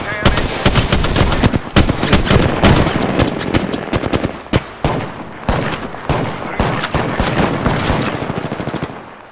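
Loud, rapid bursts of gunfire in Apex Legends, with automatic weapons rattling almost without pause in dense volleys, close and sustained, and brief gaps between strings of shots.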